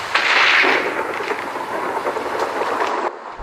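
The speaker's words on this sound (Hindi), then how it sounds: "ये बिजली की कड़कड़ाहट सुन के जीतूराम डर गया।" Thunder crack bursting loud at the start, then rolling and rumbling on before cutting off abruptly near the end, alone with no voices.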